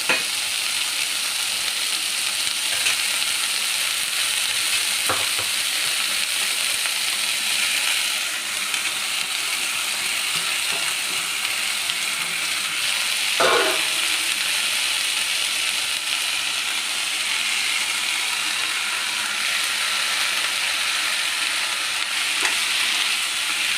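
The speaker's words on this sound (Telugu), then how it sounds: "కొంచెం కలర్ మారేంత వరకు మనం ఇది ఫ్రై చేసుకోవాలండి." Masala frying in a pan for Karnataka-style donne biryani until it changes colour: a loud, steady, dense sizzle throughout, broken by a few faint clicks and one sharper tap of a utensil near the middle.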